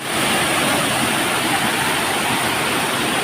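Water roars and rushes steadily near a hole in a cave, a loud, unbroken wash of noise that fills the whole stretch with no pauses.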